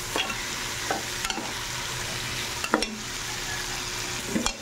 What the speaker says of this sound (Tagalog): Ihalo na natin yung ating